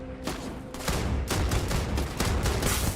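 Rapid, repeated gunfire from a Beowulf rifle in the game Starfield, a dense run of loud close shots across the whole stretch with no voices over it.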